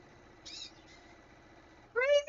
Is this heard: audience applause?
no